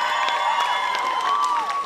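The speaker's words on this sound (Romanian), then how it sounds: "aplauze, vă rog." A school freshman ball audience in a Suceava hall breaks into lively cheering and clapping, with shrill whistles riding over the steady crowd noise.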